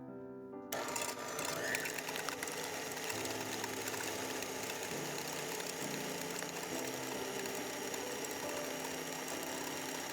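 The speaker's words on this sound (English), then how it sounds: "Start mixing on a low speed, gradually increasing it to medium." An electric mixer whisks egg whites for French meringue, ramping from low to medium speed as a steady motor whir with a faint rattling edge, continuous and close throughout.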